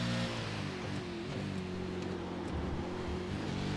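A steady, droning race car engine from the iRacing video game at Sebring, with a sustained low harmonic tone that holds level throughout, faint wind-like hiss layered above.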